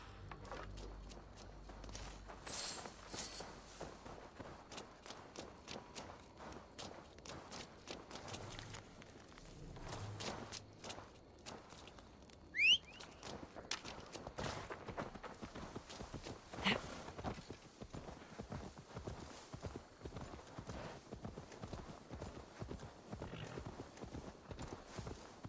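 Horse hooves clip-clop in Assassin's Creed Valhalla, a steady walking rhythm of crisp, close hoofbeats. A brief whinny rises partway through.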